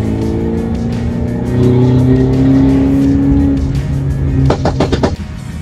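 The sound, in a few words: Mercedes C300 Coupe AMG accelerating hard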